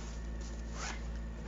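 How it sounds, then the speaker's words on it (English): A zipper is drawn closed along a bag in one continuous, fairly quiet pass, with a slightly louder rasp midway and no voices. "zip it all up"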